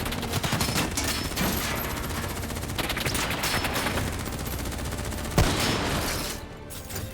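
Sustained gunfire from a Black Ops 3 campaign battle, with rapid bursts of automatic shots and a sharp louder report partway through, dense and continuous with no speech.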